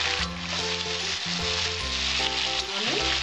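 Vegetables with green chilli paste, ginger paste and slit green chillies frying in a pan for a light Bengali catfish (magur) curry, a steady close sizzle with faint stirring throughout.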